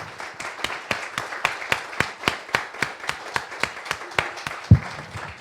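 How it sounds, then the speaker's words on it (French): A small church congregation claps for the worship team during a Sunday service, a steady rhythm of distinct, fairly slow handclaps, about three per second, with no talking over it. "J'aimerais qu'on les applaudisse"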